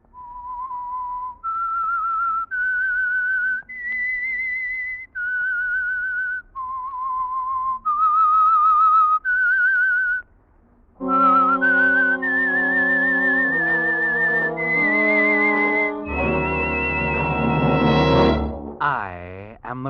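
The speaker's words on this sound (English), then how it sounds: "That whistle is your signal for the Signal Oil program" A lone whistler carries the eerie theme of The Whistler radio mystery in clear, sustained notes, then an orchestra swells in with full chords carrying the same melody to a loud finish.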